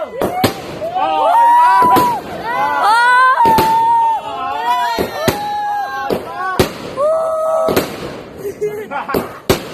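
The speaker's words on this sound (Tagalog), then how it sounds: "Fireworks, fireworks." Diamond-style fireworks bursting over Big Ben at a New Year 2020 celebration, with repeated sharp booms and crackling pops at an irregular rhythm, loud and fairly close, under excited voices and chatter from a crowd.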